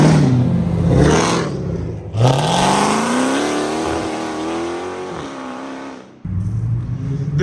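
VQ-engined cars roll out of an underground car meet in turn, each engine revving up with a rising whine and exhaust growl, one car pulling away loudly before another starts close by.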